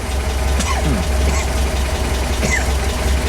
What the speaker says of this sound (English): Just started up. That's a cold start.